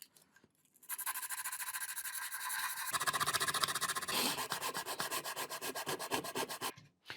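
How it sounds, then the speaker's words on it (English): Sandpaper rubs back and forth over a 3D printed prop gun in quick, regular strokes, close and scratchy, starting after a moment of quiet and stopping near the end. "So I'm just going to take the sandpaper and just"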